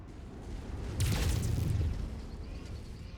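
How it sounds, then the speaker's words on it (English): An explosion booms in MechWarrior 5 combat, a single loud burst with a rumbling low-end tail fading over a couple of seconds amid game noise. "I was kind of caught in that explosion."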